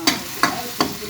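Garlic dropped into hot cooking oil, heard as three short sizzling bursts spaced evenly apart as it is stirred, with a quieter hiss between strokes.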